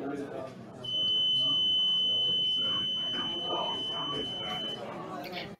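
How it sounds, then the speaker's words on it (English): A motion-sensor alarm buzzer on a home security setup sounds a sustained, piercing high tone for about four seconds while a person keeps talking over it. "there's a light and a buzzer"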